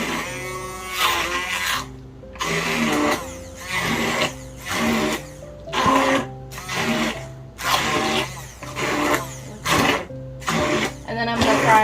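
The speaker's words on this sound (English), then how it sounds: "I'm gonna take my immersion blender and blend them, and then also add some more water as needed." An immersion blender whirs through fried pinto beans in repeated pulses, each burst of loud motor buzz lasting about a second and broken by brief pauses, close up with no talking.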